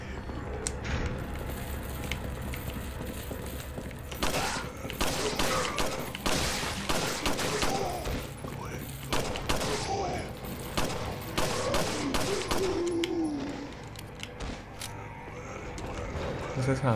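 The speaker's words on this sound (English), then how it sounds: "I think it's safe enough to use my pistol" Pistol shots ring out in the video game Resident Evil 4 HD, sharp bursts that come in irregular clusters over game sounds, with talk running alongside.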